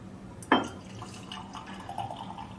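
Scotch whisky goes into a small glass: a single bright clink as the bottle meets the rim, then a faint, brief trickle of liquid, close and quiet.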